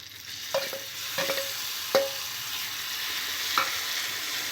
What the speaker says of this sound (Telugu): తాలింపు బాగా వేగిన తర్వాత ముందుగా నూరుకున్న పచ్చడి వేసుకోవాలి